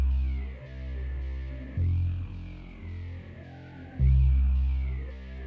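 A synthesized bass line played as a chord on two octaves in a beat, deep sustained notes that swell and change pitch in a slow repeating pattern, heard alone.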